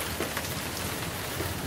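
Steady rain falls during a ballgame rain delay, a close, even hiss of drops on surfaces with no pause.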